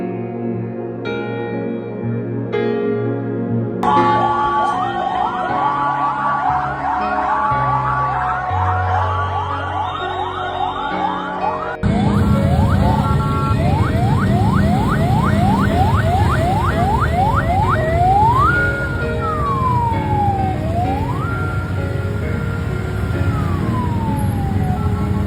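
Ambulance and fire truck sirens sound at a train accident scene near Bekasi Timur station, loud and close, with warbling and wailing tones overlapping and changing pitch continuously, without speech.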